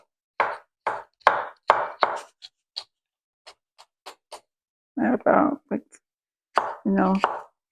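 Quick knife chops through sweet peppers on a cutting board in short bursts, crisp and close, with a voice speaking briefly between and after the cuts.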